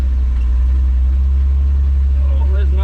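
Old Toyota Land Cruiser engine running steadily, a loud, harsh, deep low rumble throughout with constant drone, while someone talks over it close by.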